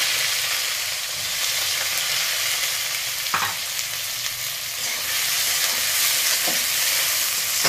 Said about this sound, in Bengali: পেঁয়াজগুলো ভেজে নিই তেলেতে লাল লাল করে